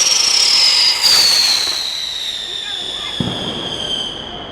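A Trueno rocket firework launched at a street fireworks event in Valencia, with a loud whistling rise that fades over several seconds, then a sharp explosion late in the clip; voices are faint in the background.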